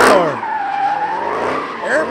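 A Dodge Scat Pack spins its tires, giving a loud, sustained tire squeal with engine roar that rises and falls over about two seconds, close by and dominant.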